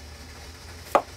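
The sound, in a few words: knife cutting the ends off a radish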